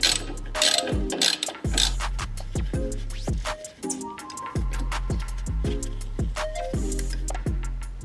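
Ratchet wrench clicking steadily while backing out a bolt that holds an ABS line bracket during a front suspension lift on a Toyota Tacoma, with repeated close, loud pawl strokes and no talking.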